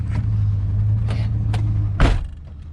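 A Chevrolet Suburban with 48,000 miles idles steadily after starting, a low, even engine rumble holding close by, with a single dull thud like a door near the end.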